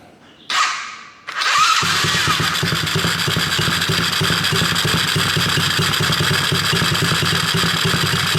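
A Coolster 110cc dirt bike with a newly replaced carburetor cranks a few times, fires up and settles into a loud, steady, close-up idle with a fast chugging pulse.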